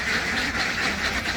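Ducks quack loudly and continuously nearby while being fed beetle larvae at a pond, a dense overlapping chorus with no pauses.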